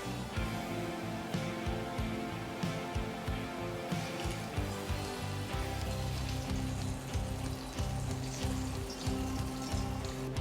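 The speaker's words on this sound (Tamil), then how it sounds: "இப்போ பொட்டேட்டோ வந்துட்டு ஃப்ரை ஆகிட்டே இருக்குது." Marinated small potatoes fry in hot oil with a continuous soft sizzle and scattered crackling pops, fairly quiet and steady with no talking.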